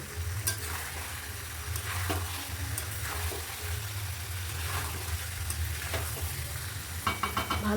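Chicken being sautéed in a pan, with a steady sizzle, scraping stirs, and occasional louder clatters as the spoon hits the pan, close and without talk.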